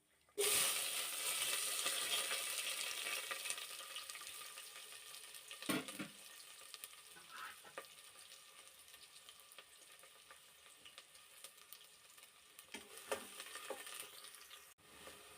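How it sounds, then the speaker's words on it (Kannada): Onions sizzle loudly in hot tempering oil with mustard seeds at first, then the frying settles to a softer crackle with a few utensil clinks, no speech. "ಒಗ್ಗರಣೆ ಈರುಳ್ಳಿ ಫ್ರೈ ಆಗ್ತಂಗೆ"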